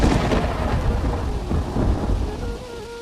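A loud rumble of thunder rolls over steady rainfall, the heavy low boom gradually fading while rain keeps falling.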